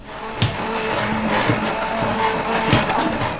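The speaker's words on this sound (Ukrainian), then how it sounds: "Тепер я буду збивати блендером." A steady, loud motorized whir runs throughout with a few sharp knocks, a blender pureeing cooked apples; no voices.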